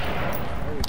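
Gunfire in the VR shooter Onward, with a quick burst of shots over a dense, noisy combat backdrop and a sharp crack at the very end.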